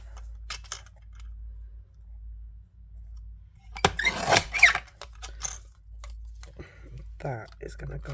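Card paper being trimmed for a handmade birthday card, a short burst of dense cutting or slicing noise mid-clip with a few faint crisp clicks around it, and a voice talking nearby.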